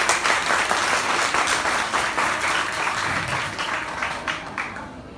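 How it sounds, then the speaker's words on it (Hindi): An audience gives loud applause in memory of teachers at a Teacher's Day celebration at KV Infotech in Udhampur. The dense clapping holds strong, then gradually tapers off. "एक बार उन सभी टीचर्स की याद में एक बार जोरदार तालियां।"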